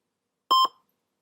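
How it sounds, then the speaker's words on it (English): A single short electronic beep, clean and tonal, sounding alone in silence. "This was followed by another faint beep."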